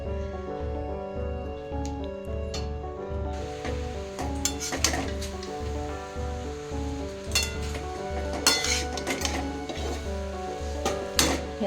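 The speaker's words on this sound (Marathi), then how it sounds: "आपण हे 5 मिनिटं फास्ट फ्लेमवर परतून घेणार आहोत।" Carrot halwa sautéed on a high flame in a pan, soft sizzling and intermittent clinks and scrapes of a spoon stirring, fairly faint over a steady rhythmic background music track.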